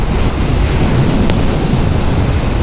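Strong, gusty wind roars continuously against a riding motorbike in stormy weather, a loud, dense rush that buffets the microphone throughout without any voices.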